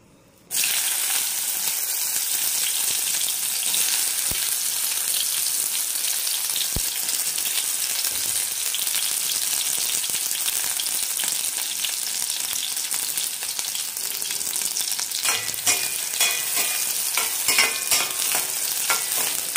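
Soya chunks hit hot oil with an abrupt loud onset, then a dense, steady sizzle crackles on close by without pause, with faint clinks late on.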